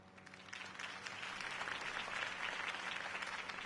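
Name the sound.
crowd applause after campaign speech in Spider-Man 2 video game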